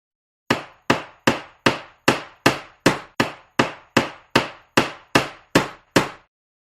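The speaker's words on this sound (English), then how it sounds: "hammer" A hammer strikes fourteen times in a steady, evenly spaced rhythm, each blow a sharp, loud crack with a short decaying ring, heard alone without voices.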